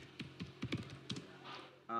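Computer keyboard typing heard up close as a few quick, irregular key taps, brief and fairly quiet, followed by a short burst of other sound at the end.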